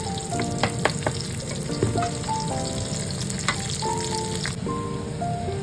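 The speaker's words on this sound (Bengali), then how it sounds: "আমি ভালো মতো আস্তে ধীরে ভেজে নেব, যাতে ডিমটা খুব ভালো মতো ভাজা ভাজা হয়ে যায়" An egg with lemongrass fries slowly in a pan for Japanese fried rice, giving a steady soft sizzle with occasional stirring clinks and scrapes, close and uninterrupted by talk.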